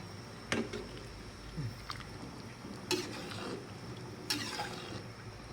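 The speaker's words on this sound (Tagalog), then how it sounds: "Kailangan haluin" A ladle stirs a large pot of spaghetti, soft wet squishes with a few sharper knocks against the metal rim, faint under a steady background hum.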